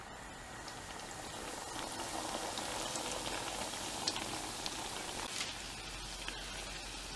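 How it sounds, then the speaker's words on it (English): Soft doughnuts frying in hot oil, a close, steady bubbling sizzle that holds throughout with a few small pops and no voices. "now carefully with the spatula I'm going to fry each donut"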